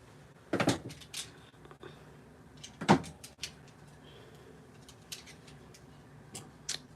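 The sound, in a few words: cutting with scissors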